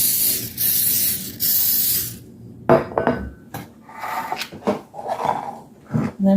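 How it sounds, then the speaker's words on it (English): Butter-flavor cooking spray hisses from a can into small baking tins for potato soup in a kitchen, three loud bursts up front followed by scattered clinks and knocks of tins and utensils. "I'm going to spray with some butter flavor spray"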